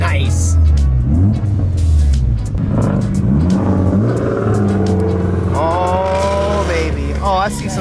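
An Evo X with a big turbo cruises to a car meet, its engine rumbling and revving in short bursts, while voices speak and call out over the drive.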